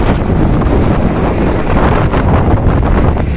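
Strong sea wind buffets the microphone aboard a rolling fishing boat, making a loud, continuous roar with no break and no voices.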